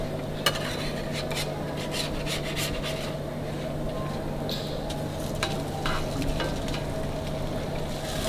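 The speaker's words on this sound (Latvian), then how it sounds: "Un liekam virsū cepties zivi." Fish frying in a pan on a grill, giving a steady, dense sizzle that runs without a break from start to finish, close up, with a few light scrapes and clinks over it.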